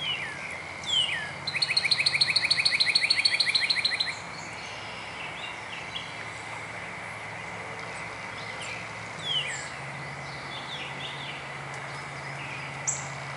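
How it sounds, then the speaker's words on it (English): Sparrows chirping around a garden bird feeder in the morning, with a rapid trilling burst early on followed by scattered, fainter tweets over a steady background hum. "it looks like all my sparrow friends are here this morning."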